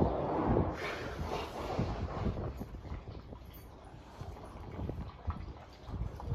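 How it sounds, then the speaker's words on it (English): Gusty wind buffets the microphone with a low rumbling roar, rising and falling in strength throughout. "It's windy. Windiest spots in the city."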